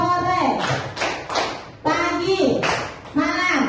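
Children clap in rhythmic bursts during a classroom clap-along game, several sharp group claps falling between an adult's chanted speech, fairly close and loud.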